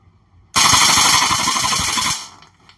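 A We-Tech Apache A3 MP5 airsoft gun firing full auto with 0.20 g BBs: a loud, close, rapid buzzing burst of about a second and a half, rising suddenly and cutting off cleanly.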